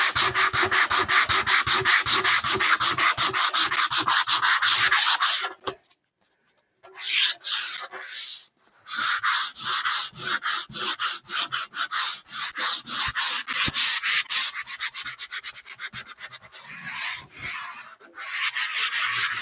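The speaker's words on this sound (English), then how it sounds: "Now this is just 100 grit sandpaper, and it's doing a nice job." A wooden dresser is hand-sanded with 100 grit sandpaper in a shop, fast rhythmic rasping strokes up close, with a brief pause about a third of the way through before the scrubbing resumes.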